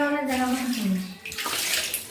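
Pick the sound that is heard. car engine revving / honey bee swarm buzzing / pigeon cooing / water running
water running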